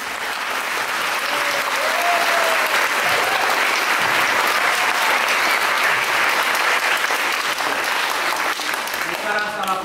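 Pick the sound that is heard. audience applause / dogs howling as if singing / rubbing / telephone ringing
audience applause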